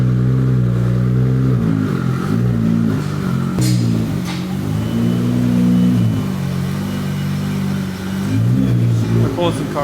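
A blue Nissan Skyline R32 engine idles and revs with a steady, loud mid-pitched drone while the car is moved off a lift in a garage, the pitch rising and falling with throttle blips.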